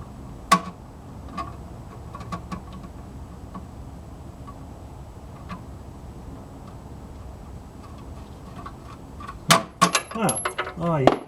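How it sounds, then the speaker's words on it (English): A bolt drops into the engine bay of a 4WD Daytona, giving a sharp metallic clink early on, then a quick cluster of clattering hits against metal parts near the end over quiet background. "Okay, did it fall out the bottom? Probably not. It hit something"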